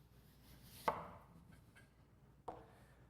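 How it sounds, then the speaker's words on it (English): A knife splits an extruded, compacted soil sample, producing two distinct close cuts about a second and a half apart, each a short crunchy chop over quiet room tone. "split the sample with your knife"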